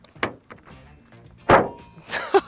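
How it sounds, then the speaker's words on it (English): A new Toyota Prius door shut, a near, loud, hollow thunk with a tinny ring, preceded by a lighter handle click and followed by a couple of quick knocks. "And the way the door shuts."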